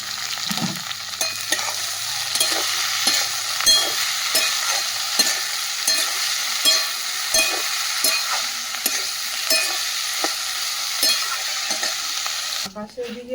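Meat sizzles in a pan over a wood fire outdoors while a spatula scrapes and stirs it in repeated strokes, a close, steady frying hiss throughout.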